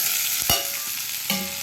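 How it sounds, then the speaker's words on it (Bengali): Ghugni, a green pea curry, sizzles steadily as its spice mix fries in a pan, with two brief scraping strokes from stirring. No voices are heard. "দিয়ে একটু নেড়ে নেবো, নাহলে কিন্তু ভিতরে ধরে যাবে"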